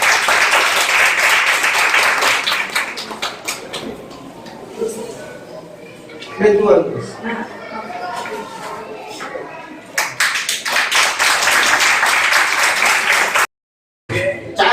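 Audience at a community outreach programme clapping in a sustained burst that opens loud, fades beneath a host's talk, then swells again near the end, crowded and close.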